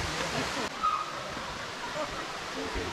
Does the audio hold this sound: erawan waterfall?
yes